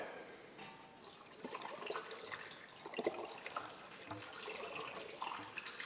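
Water and distilled water with coolant cleaner gush and trickle through the heater core of Herbie, a car being restored, a steady splashing, dripping flow with occasional louder spurts, close by.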